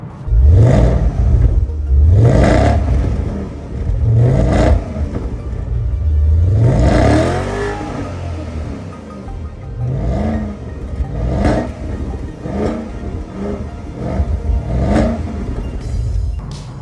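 A first-generation Porsche Panamera 4S with a 4.8 litre V8 revs repeatedly, loud and close, with rising engine sweeps and a deep rumbling burble between the pulls and no talk over it.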